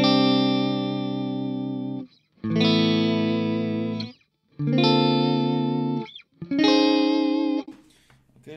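Electric guitar played through a Garland SoT50 amp with the three-position bright switch on its right setting, ringing out four loud sustained chords with brief gaps between them, no talking.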